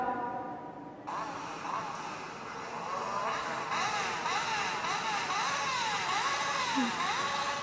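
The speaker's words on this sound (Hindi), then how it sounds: "scratching of car tyres" Car tyres screeching, played as a sound example in a science lesson: after a brief quiet start, a loud sustained squeal sets in with wavering, sweeping pitch over a constant engine-like roar, with no talk over it.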